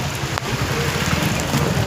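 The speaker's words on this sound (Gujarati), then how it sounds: "વરસાદ પાછો ચાલુ થઈ ગયો" Steady, fairly loud rain falling outdoors near a temple, a dense continuous patter with no voices throughout.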